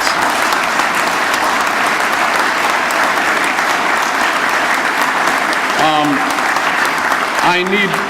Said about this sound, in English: let's give the committee that made this happen a huge round of applause